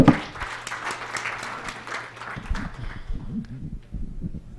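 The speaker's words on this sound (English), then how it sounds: "please give him some applause" Audience applause at the URJA VARTA 2024 energy conference after a presentation, a steady wash of clapping across the room that holds at moderate level with a low hum underneath and some faint murmuring toward the end.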